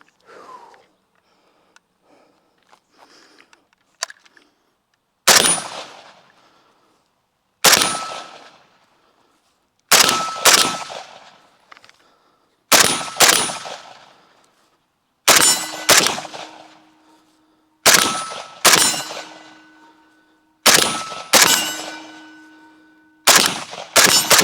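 AK47 rifle fired on iron sights at about 25 yards while moving, with its recoil held down: nine sharp, loud single shots, evenly spaced roughly two and a half seconds apart, each with a short ringing tail. A few faint rustles come before the first shot.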